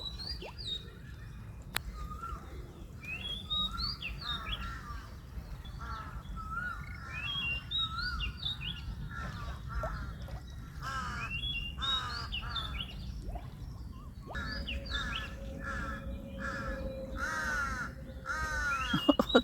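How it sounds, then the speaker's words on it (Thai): Crows caw loudly and repeatedly by a large lake, their harsh calls overlapping with other birds chirping against a steady low rumble of wind and water, with a sustained tone rising near the end. "เสียงดังมากค่ะ ร้องดังลั่นเลยค่ะ เหมือนเตือนอะไรกันนะ ดูดูนกก็บินว่อนนะ"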